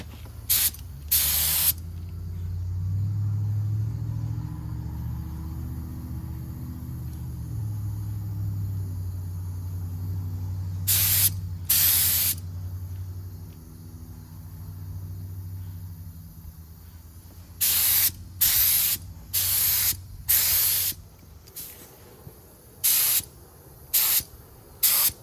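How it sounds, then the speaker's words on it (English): Spray paint from an aerosol can, test-sprayed onto cardboard in short loud hissing bursts: two early, two around the middle, then a quicker run of several near the end, over a low background rumble. "I'm just going to do a couple of test spots on this cardboard to see how it sprays."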